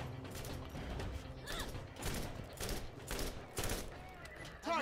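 Submachine gun fire in the Borderlands video game, heard as several bursts of rapid shots with mechanical clatter, mixed with other game sounds.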